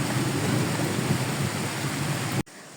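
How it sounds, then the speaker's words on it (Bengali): Heavy rain pours steadily during a downpour in the Bagerhat region, a dense continuous hiss that cuts off abruptly near the end. "সকাল থেকে অনেক বৃষ্টি হচ্ছে"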